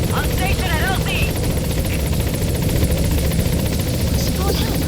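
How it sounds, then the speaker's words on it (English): A support helicopter in Metal Gear Solid V hovers at a landing zone, its rotor thumping loudly and steadily throughout while voices speak over it. "Support helicopter has arrived."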